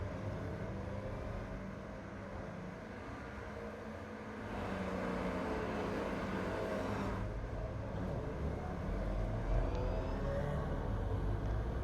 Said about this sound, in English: So all the cars scrambling out on the track now.